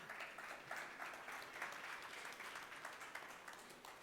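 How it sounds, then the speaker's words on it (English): A startup summit audience applauds for a presenter in a conference hall, steady dense clapping heard at a distance and fairly quiet, continuing evenly for several seconds. "Please give an applause for David"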